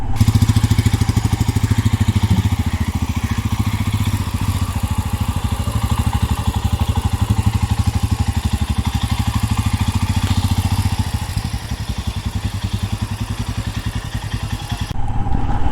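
Royal Enfield Himalayan 411 motorcycle engine thumping steadily at low speed through tight turns, a close, continuous loud single-cylinder chug with no talking.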